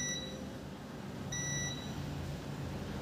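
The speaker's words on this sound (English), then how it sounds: "Let's put the multimeter into the continuity mode" A multimeter in continuity mode gives two short high beeps while testing a capacitor, heard over a steady electrical hum on a repair bench.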